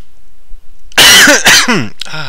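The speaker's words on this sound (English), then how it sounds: "coughing in your ear there constantly." A person coughs loudly and close to the microphone, a few harsh bursts in quick succession after a brief quiet moment, ending with a throaty rasp.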